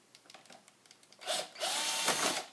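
Screws being driven out of the screen bezel of an HP DV6-1375dx laptop, a brief whirring burst from a small power screwdriver, close and fairly loud, with faint clicks and handling taps before it.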